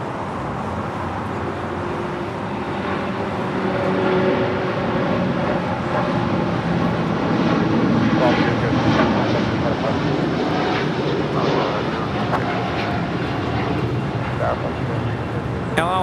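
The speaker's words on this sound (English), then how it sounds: "As we have the Condor A330-200 with the blue striped tail coming in from Frankfurt" Condor Airbus A330-200 jet arriving at LAX from Frankfurt: a continuous broad engine roar that swells gently toward the middle and holds steady, with talk running over it.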